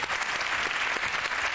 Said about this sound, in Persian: تشویقشون کنید بچه‌ها رو.